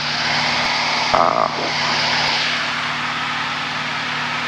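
Steady drone of a Cessna Skyhawk light aircraft engine in flight, heard from inside the cockpit, a constant loud hum and propeller buzz with a brief higher tone blip partway through, continuous throughout with no talking.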